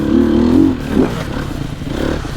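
A 2020 Sherco two-stroke or four-stroke enduro motorcycle running without its Factory exhaust, a close, fairly muted engine note that holds steady, dips briefly, then picks up again.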